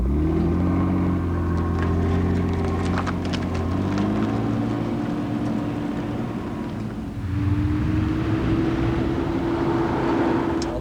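A Nissan Skyline GTR with a twin-turbo straight-six engine drives with a deep, steady rumble, shifting pitch around a gear change midway and then pulling on, heard from inside.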